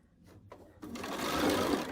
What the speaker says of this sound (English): I'm sewing all the 1/4 square triangles together